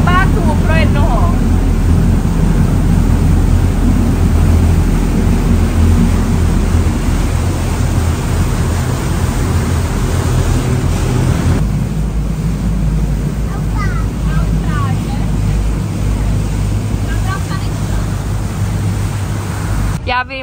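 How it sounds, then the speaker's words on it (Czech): A tour boat in Bangkok: constant engine drone and rushing water with wind buffeting the microphone, a steady loud wash of noise with faint voices in the background. "Jdeme na lodi"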